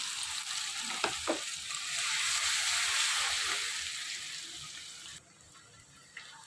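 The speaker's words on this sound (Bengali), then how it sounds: "পেঁয়াজটা লাল লাল করে ভাজবো।" Broad sizzling of onions frying in hot oil until browned, swelling then easing, with a few utensil knocks; the frying drops quieter near the end.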